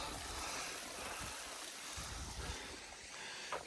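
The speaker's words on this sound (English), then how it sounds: "There's a little waterfall just there, or a series of waterfalls" Small roadside waterfalls, a series of little cascades in overgrown country near Dent and Garsdale, give a steady broadband rush of falling water, fairly close and continuous with a few soft bumps and no talk.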